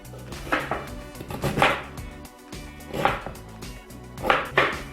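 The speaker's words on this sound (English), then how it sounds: "So I peeled the turnip and now I'm going to chop it up into small pieces" A knife chopping a peeled turnip into small cubes on a board, a series of crisp irregular thunks in bursts, close and clear with no talking.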